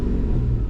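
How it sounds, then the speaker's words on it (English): A BMW E34 with a 3.7-litre stroker M30 straight-six running on a standalone ECU gives a short, loud burst of low engine rumble as it revs, heard up close with no talking. "Couple revs. Oh yeah, it revs up nice."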